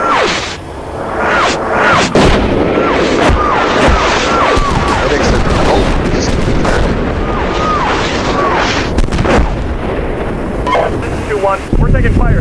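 Incoming fire in the tank simulator Steel Beasts Pro PE during a Russian attack in northeast Ukraine brings repeated booms and sharp bursts over constant loud wind-like noise, with several heavy blasts spaced through the stretch.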